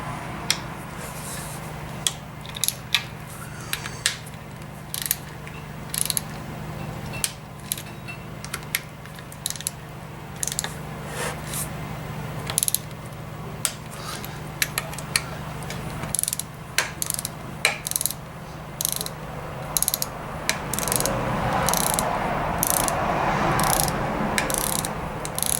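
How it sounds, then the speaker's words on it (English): A torque wrench tightening bolts on a PW80 engine, with repeated sharp ratchet clicks in bursts across the clip, close and fairly quiet, against a steady low mechanical background hum. "so we'll go ahead and torque them down."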